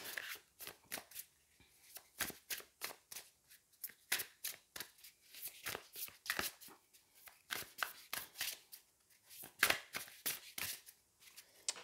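Tarot cards being shuffled by hand, a long run of crisp riffling and slapping bursts in an irregular rhythm, close and fairly quiet with no talking.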